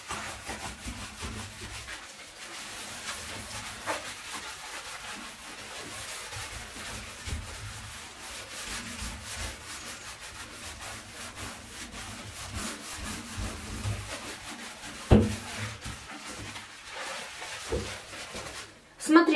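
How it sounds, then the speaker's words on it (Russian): A bathtub is scrubbed with a cleaning product that removes limescale, producing steady, rhythmic rubbing strokes close by for the whole stretch. A voice speaks at times over the scrubbing. "Сейчас ванну почищу"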